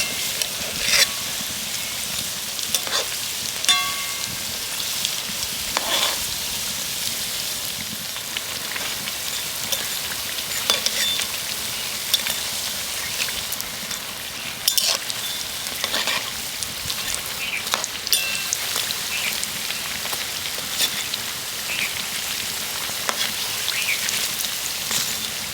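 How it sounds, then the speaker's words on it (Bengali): A crispy layered snack deep-frying in hot oil gives off a steady, dense crackling sizzle like light rain, with sparse clicks and pops scattered through it. The sound is close and continuous and carries no speech. "উল্টেও কিন্তু খুব সুন্দর করে ভেজে নেব"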